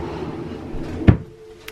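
A wooden drawer in an art studio gives one short, sharp knock or thud near the end, with faint rustling and handling noises before it.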